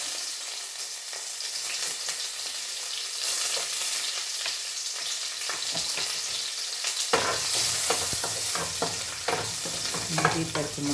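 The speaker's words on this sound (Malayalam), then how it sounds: "എണ്ണയൊക്കെ ചൂടായിട്ടുണ്ട് പാൻ നല്ല ചൂടായിരുന്നത് കൊണ്ട് പിന്നെ ഇഞ്ചി പച്ചമുളക്" Ginger and green chilli frying in hot oil in a pan, a steady crackling sizzle that grows louder and busier partway through, with clinking stirs and scrapes, no talking.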